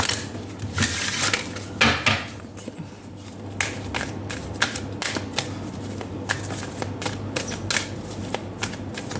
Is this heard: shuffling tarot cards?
yes